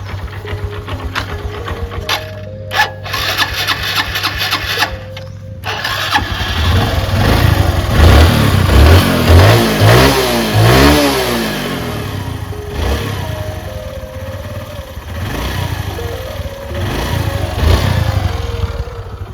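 A Honda Dream Neo 110 motorcycle engine runs close by at a steady idle, then rises in a few quick revving bursts near the middle before settling back to a rough idle.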